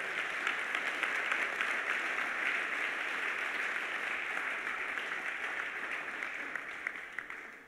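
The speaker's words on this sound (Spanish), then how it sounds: "Denle un aplauso al Señor." A church congregation applauds steadily during a Sunday service, dense clapping holding at a constant level throughout and tapering slightly at the end.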